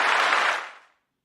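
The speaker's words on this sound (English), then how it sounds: "That was the longest applause I've ever received." A burst of applause from an audience, loud and dense at first, then fading out quickly after under a second into silence.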